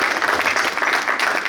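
An audience applauds after a solo song at a stage performance, giving a short burst of dense, close, continuous clapping.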